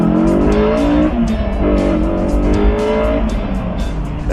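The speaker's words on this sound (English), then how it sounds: "The exhaust note is different too, not quite as zingy and screamy like older Hondas," A 1999 Honda S2000's 2-litre F20C engine revs loudly through its exhaust, a steady, sustained high-pitched note rising and falling close by, with no talk over it.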